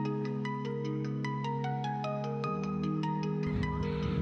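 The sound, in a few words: phone ringing with incoming call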